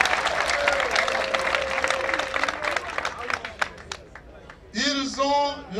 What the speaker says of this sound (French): Applaudissez tout.